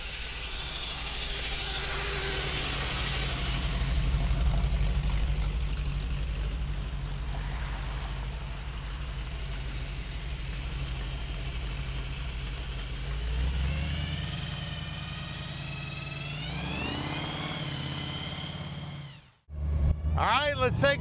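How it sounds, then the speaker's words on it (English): A 1932 Ford Hiboy with a supercharger blower runs and revs, its engine note rising and falling with a whine climbing near the end before cutting off abruptly; a voice talks over parts of it. "I tell you what, she runs awesome. That blower sounds unbelievable."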